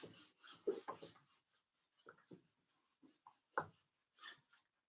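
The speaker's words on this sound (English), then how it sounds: "Prepare yourself as I'm going to erase it." Eraser rubbing across a classroom board in short, uneven scraping strokes with pauses between them, faint and close, with no talking.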